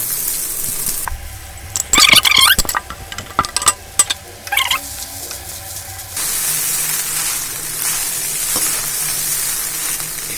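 Poha tossed into a hot pan of fried potato, onion and peanuts, loud steady sizzling with bursts of clattering stirring and scraping in the middle, then an even hiss.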